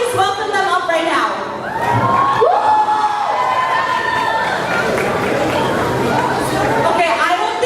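A youth conference audience screams, shouts and cheers in a large hall, a loud sustained roar of voices with whoops rising and falling throughout.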